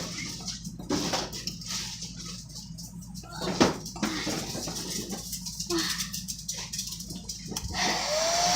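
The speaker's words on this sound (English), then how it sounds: "Use the blow dryer." A blow dryer drying freshly airbrushed paint on a Cadillac, a faint steady whooshing hum cut by brief bursts and small knocks, fairly distant and low in level.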